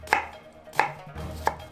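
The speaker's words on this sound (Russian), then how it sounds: "И нарезаем на кубики." Onions being diced into cubes with a knife on a board, three crisp evenly spaced chops close up, with no talk.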